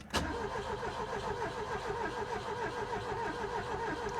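An old Ford engine, not started for 40 years, cranks on its starter after a sharp click, with a rhythmic chugging that continues steadily for about four seconds without catching, close and fairly loud.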